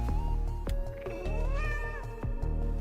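A cat familiar in the video game Hades 2 lets out a drawn-out rising meow, close and clear, over steady game music and sound effects, with no talking.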